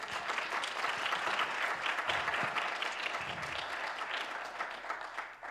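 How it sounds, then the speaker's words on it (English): Audience at a zero waste festival applauds speakers coming to the stage, a steady wash of many hands clapping heard from a distance, sustained and even throughout before easing slightly at the close. "Give them a round of applause."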